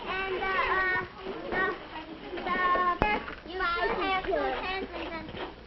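A busy room full of children chattering and calling out over each other, with a sharp knock partway through.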